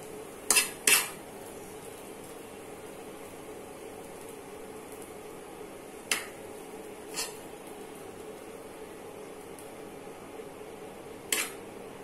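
A utensil scoops fish-and-seaweed fried rice from a pan. A few sharp metallic clinks and scrapes stand apart against a quiet, hissing room.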